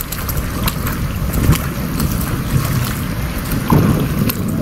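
A village boat moves across water, with a constant rushing wash and gusts of wind buffeting the microphone; no one speaks.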